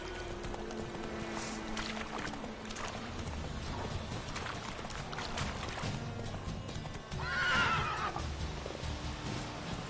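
Hooves of a horse clip-clop steadily over a busy outdoor game soundscape in The Witcher 3, with a whinny rising near the end; a rider's voice can be heard faintly.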